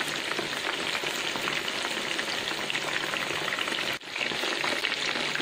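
Chicken schnitzel fries on a low flame, a continuous close crackling sizzle of hot oil with one brief dip partway through.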